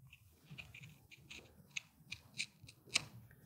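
Scissors snip around the edge of a machine embroidery project with leather hinges, making faint, close, irregular cuts and a few sharper clicks over a quiet background.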